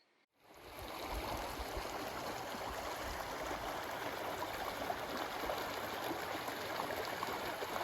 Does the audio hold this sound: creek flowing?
yes